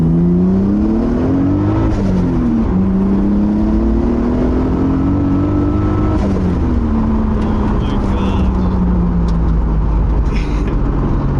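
A 2JZ-swapped Nissan S14 on 16 pounds of boost accelerates hard, its engine note climbing loudly through a gear change and holding steady. Voices talk over the constant engine roar.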